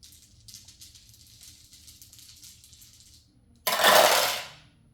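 Dice clatter and tumble across a table during an Arkham Horror board game, a single loud bright rattling burst that decays over about a second, after a stretch of faint high hiss.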